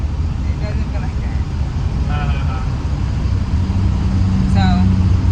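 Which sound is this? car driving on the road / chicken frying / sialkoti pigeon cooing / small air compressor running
car driving on the road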